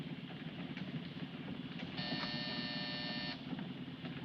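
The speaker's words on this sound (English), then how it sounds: "Hit that buzzer." A door buzzer sounds inside a truck in a 1952 film noir, one steady harmonic electric buzz of about a second and a half over a constant low engine rumble, with no talk.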